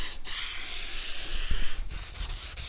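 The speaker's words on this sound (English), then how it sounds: "you gotta spray this and then wait 1 to 2 minutes and then put it down" A spray can hisses steadily and close while coating a car's parcel tray during an interior rebuild, with a few soft knocks and shuffles underneath.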